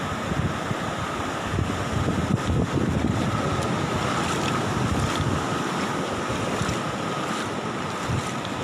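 Flood waves surge onto the beach at Tanjung Pakis, where the sea is rising over the shoreline road and stalls, making a constant rushing wash of water heavily mixed with buffeting wind.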